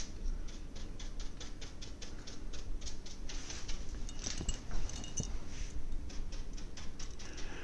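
Rain falls outdoors during a storm, a soft steady patter with scattered brighter ticks and drips on hard surfaces, moderately close and continuous, no talk.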